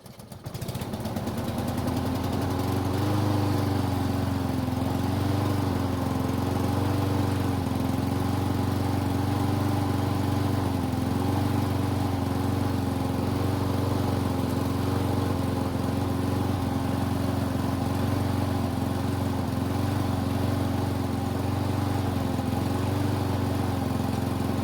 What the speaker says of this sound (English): So it started just fine with the pull rope, although it seems to be a bit cold-natured